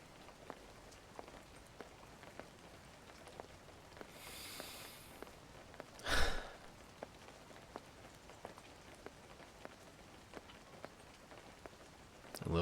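Steady rain falls on a city street in Yokohama at night, a soft, even patter with scattered drops, faint and close, with a brief louder rustle partway through.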